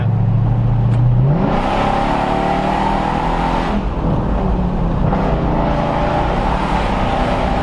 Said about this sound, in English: It's nothing like cruising in a AMG Benz that sounds loud